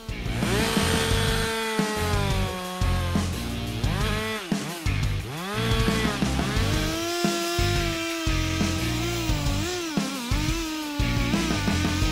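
A Stihl MS 462 C chainsaw fells trees in a forest, its engine loud and close, revving up and down in repeated rising and falling whines with brief dips between cuts.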